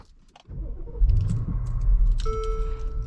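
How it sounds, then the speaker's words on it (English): A 2015 Mercedes ML63 AMG W166 with a bi-turbo V8 fires up by push button: a brief starter crank, then a loud, close, deep rumble that settles into a steady idle, joined by a thin chime tone. "We got a nice push button start."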